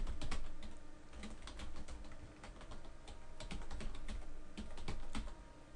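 Close, quiet typing on a computer keyboard, a steady patter of light key clicks with small pauses, no voices.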